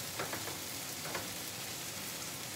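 Onions caramelizing and browning in a frying pan give a steady, close sizzle with soft crackles and an occasional stir, with no talking.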